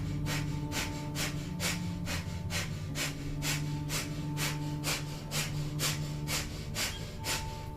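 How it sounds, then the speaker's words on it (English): Rapid, forceful panting breaths through the nose, the breath-of-fire exercise in a Kundalini yoga class, come in a quick even rhythm of about two per second, close and steady, over soft background music. "And we'll come into 2 minutes of breath of fire here. Panting like a dog through the nose,"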